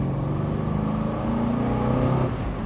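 An Alfa Romeo Montreal engine revs up close and loud, a steady rising growl that swells near the end, with no talking.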